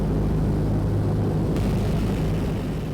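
A roughly 80-year-old propeller aircraft droning steadily, a dense low engine rumble filling the whole stretch with no talk.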